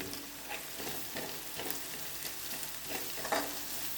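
Coriander powder being stirred into a sizzling chicken roast masala, with steady frying hiss and soft periodic scraping strokes of the spoon through the thick spice mixture, close and moderately loud, no talking.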